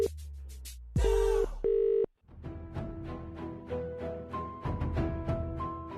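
A telephone call goes unanswered, with a few loud electronic beeps of the line tone at first, then softer repeated tonal pulses that keep sounding with nobody picking up.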